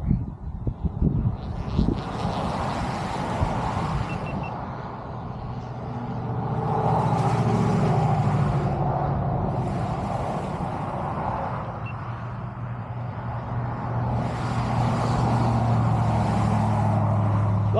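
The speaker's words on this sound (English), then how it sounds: "Lots of cars." Road traffic near a Corps of Engineers campground at Granger Lake, Texas, with cars and heavier vehicles swelling past in repeated waves, a low rumbling roar rising and falling, some wind buffeting early on.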